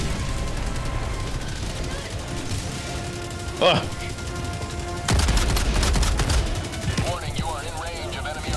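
Gunfire and a loud burst of automatic fire ring out in the video game Helldivers, with a short sharp report early, a dense crackling volley in the middle and a brief groan from a player.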